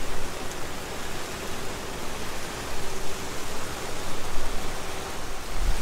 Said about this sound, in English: I've never seen rain like this, at least not this long